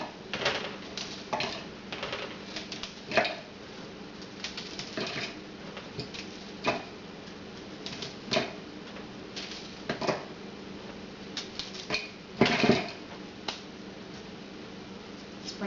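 Bread being broken up by hand for bread crumbs, a series of irregular crisp cracks and crunchy snaps, close and fairly quiet, with no talking.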